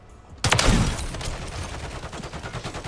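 Gunfire from a shotgun in the Call of Duty MW3 video game starts abruptly and continues as a loud, dense run of rapid shots, with no talk over it.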